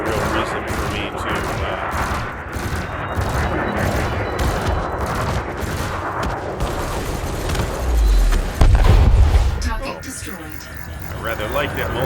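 A spaceship's multi-cannon in the video game Elite Dangerous fires a dense, rapid stream of shots, a steady rattling barrage over engine hum, ending in a deep booming impact and a fading rumble.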